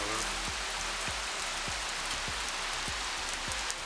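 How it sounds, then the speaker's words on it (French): Heavy rain falling, a dense, steady hiss of rain hitting surfaces with regular low thuds roughly every half second beneath it, constant and fairly near, with no talking. "les pluies ne se sont pas arrêtées pour autant, et on a même eu de gros épisodes de pluie"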